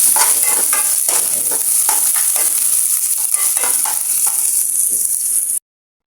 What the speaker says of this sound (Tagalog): Kaya na natin yung ating munggo. Haluin lang natin.